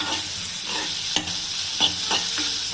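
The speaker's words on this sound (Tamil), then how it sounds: "இந்த பச்சை மிளகாயும் சேர்த்துட்டு கொஞ்சம் லைட்டாக கலர் மாறுற அளவு கொஞ்சமாக வதக்கிக்கலாம்" Green chilies sauté in a hot pan with onion, giving a steady broadband sizzle with a few sharp utensil scrapes and stirring knocks, close and moderately loud, no voices.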